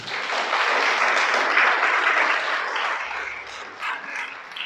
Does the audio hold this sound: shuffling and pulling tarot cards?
no